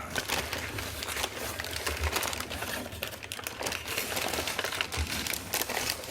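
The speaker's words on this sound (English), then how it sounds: "So this is sort of an unwrapping, really." New rag-paper notebooks being unwrapped from their packaging, soft close crinkling and rustling of wrapping with scattered crisp crackles and a few small taps, continuous and fairly quiet.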